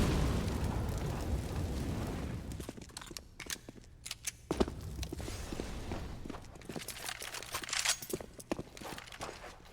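A grenade goes off in Counter-Strike on the Mirage map: a loud blast at the start that rumbles and fades, then footsteps and scattered sharp pops follow at a lower level.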